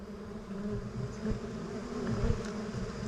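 A swarm of honeybees hums at their hive close by while the comb is being cut, a dense, continuous buzz with no talking.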